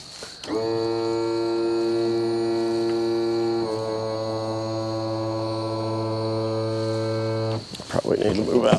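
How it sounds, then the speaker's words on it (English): Outboard boat motor being raised on its power tilt while drifting over a shallow bar, a loud steady droning whine with a slight pitch drop partway through, running about seven seconds before cutting off. "Just gotta raise the motor."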